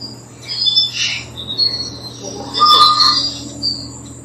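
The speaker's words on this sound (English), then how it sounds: "I'm hearing the birds." Bird calls chirp and squawk in a few bursts over steady low background noise, moderately close, with no talking.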